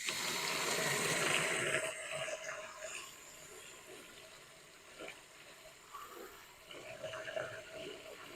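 Water rushes loudly at first, then settles into a soft, steady flow through a solar birdbath fountain set in a garden, with faint splashes and trickles throughout.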